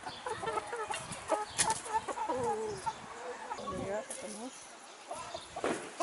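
Several hens cluck and murmur close by in a backyard, with irregular bursts of clucking under someone talking.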